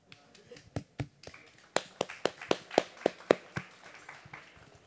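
Scattered hand clapping from an audience at a panel discussion on the future of food: a few sparse claps, then a denser run of sharp, fairly close claps that trails off, with no voices.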